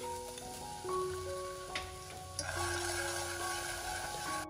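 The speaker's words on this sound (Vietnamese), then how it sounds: "mình cho vào nồi một ít dầu ăn, rồi phi thơm khoảng 2 tép tỏi băm." Minced garlic sizzles and crackles in hot cooking oil in a pot, a steady close frying hiss with tonal hums and occasional ticks, no talking.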